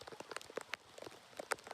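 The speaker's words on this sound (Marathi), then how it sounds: "एवढा मस्त पाऊस पडतोय बाहेर" Rain falls outdoors in faint, scattered patters of drops striking surfaces, soft and irregular throughout.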